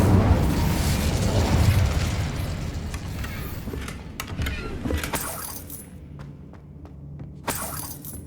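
An Incendio fire spell erupts in Hogwarts Legacy, a loud shattering burst that rumbles and fades, followed by scattered sharp crackles and pops as the blast dies down.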